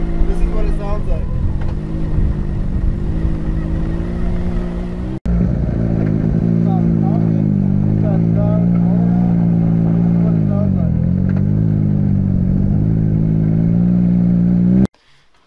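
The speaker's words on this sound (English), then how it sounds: "If I was talking inside the car with the motor on, this is what it sounds like." Engine of a Can-Am Maverick X3 XRS Turbo heard from inside the cab, a steady loud drone with shifting pitch that runs nearly unbroken and cuts off abruptly, while a person talks over it.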